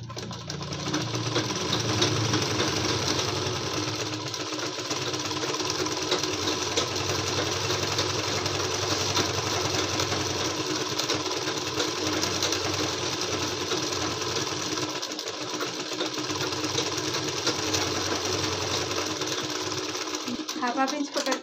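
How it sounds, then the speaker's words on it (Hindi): Sewing machine stitching patiala salwar fabric, a fast continuous whirring rattle that runs steadily and close throughout, with someone talking over it. "इसको पकड़ के पहले इसमें स्टिच कर देंगे हाफ हाफ इंच इस तरीके से।"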